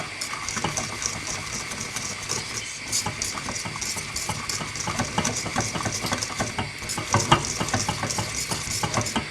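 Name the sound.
custard mixture boiling while stirred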